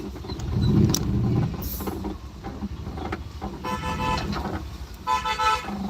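Traffic rumbles close by at a CNG filling stop as a car horn gives short toots over the engine noise, with a brief high squeal partway through.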